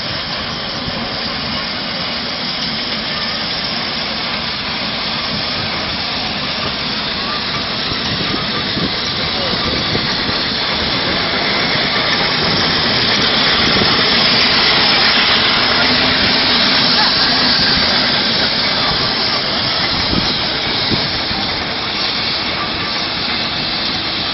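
A McLaren steam traction engine passes at the Great Dorset Steam Fair, a continuous dense rushing hiss and chuffing roar that swells slightly toward the middle, with crowd noise under it.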